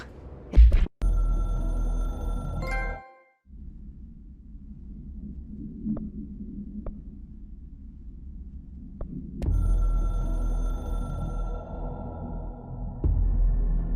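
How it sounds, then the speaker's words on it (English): A hotline telephone rings in the video game Control, a loud electronic trill in two bursts separated by a low humming drone with faint pulses, sounding close. "I can hear the hotline ringing in my dreams, constantly ringing."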